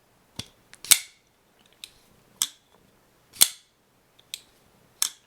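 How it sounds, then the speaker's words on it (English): A series of sharp, loud metallic clicks, about eight snaps spaced irregularly with quiet gaps between them, as a Shirogorov Southard flipper pocketknife blade flicks open. "It is a nice sounding blade, like it's just gorgeously sounding, very, very loud click"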